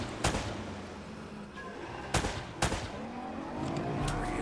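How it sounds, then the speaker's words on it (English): Gunfire in a PS5 action game: three loud, separate shots cracking out over a low rumbling backdrop, the first alone and two more in quick succession a couple of seconds later, with faint scattered pops near the end. "More shooting."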